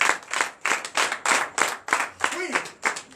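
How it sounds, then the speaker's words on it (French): A church congregation claps together in a steady rhythmic beat of loud, even handclaps at about three per second, with a voice briefly heard over the clapping. "Donnez l'acclamation à Jésus."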